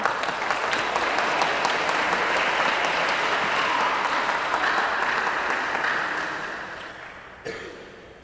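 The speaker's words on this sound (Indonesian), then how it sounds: "Mari kita beri tepuk tangan sekali lagi untuk mereka." An audience at a weekly Islamic speech program claps in dense, steady applause that holds loud for several seconds, then tapers off, with one last stray clap near the end.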